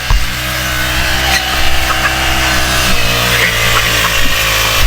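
Motorized grass cutter running on a small farm, a loud, steady buzzing engine drone with a faint rhythmic pulse, close by and alone without speech.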